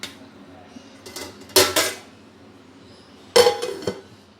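A cover goes onto a bowl of marinated chicken in a kitchen, giving two separate close clattering bursts of dish and lid contact, each with a short ringing clink, and quiet between them.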